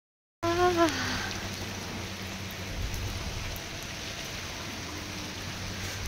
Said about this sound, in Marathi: छान असा पाऊस.